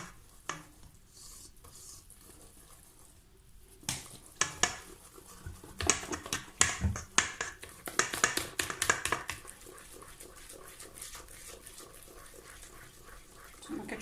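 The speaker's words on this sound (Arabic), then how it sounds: "غادي نخلط شويش بشويش حتى تجمع لي العجينه، وعاد غادي نديرها تعرك على خاطرها" Brioche dough of flour and yeast is worked by hand in a bowl. Quiet at first, then sticky slaps and squelches come in irregular bursts, loudest in the middle before settling to soft handling.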